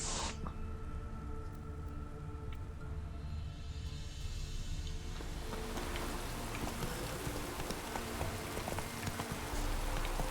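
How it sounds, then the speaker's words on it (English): Rain in the video game The Witcher 3 builds from a soft patter into a thick, continuous wash of falling water, with faint clopping hooves mixed underneath. "Yes, that is rain."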